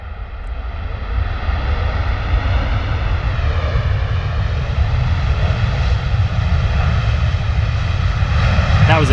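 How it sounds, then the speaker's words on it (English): A Ryanair airliner lands at London Stansted Airport, its engines a steady loud roar with a whining tone that holds throughout, while someone talks over it. "That was a very nice landing from Ryanair."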